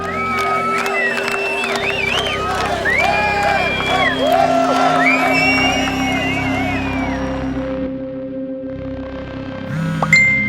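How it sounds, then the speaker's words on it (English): A large protest crowd shouts angrily at an effigy of a Mohawk warrior near the blocked Mercier Bridge, many overlapping voices yelling and whooping continuously at close to moderate distance, dying away near the end. "The crowd vents its anger on the effigy of a Mohawk warrior, yelling, "Savages!""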